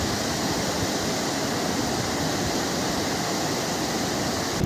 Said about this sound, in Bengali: আসল স্প্রিংটা এই পাশে এই হচ্ছে মণিকরণ গুরুদ্বারা আসল স্প্রিংটা এখান থেকে হওয়া উঠছে